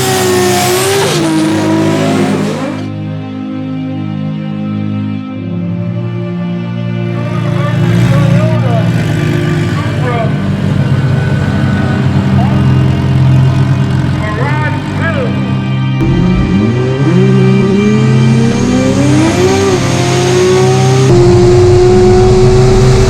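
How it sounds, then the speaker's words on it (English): A 1993 Toyota pickup with a swapped IS300-type engine built with upgraded pistons and rods roars loudly nearby, revving hard and accelerating with shifting pitch and tire squeal, heard as a continuous drive without talk. "this is my 93 Toyota pickup"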